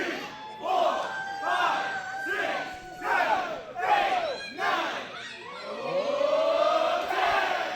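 A wrestling crowd at a Brewery Bash show chants a count toward ten in unison, with loud rhythmic shouted beats about once per second and a rising cheer at the end.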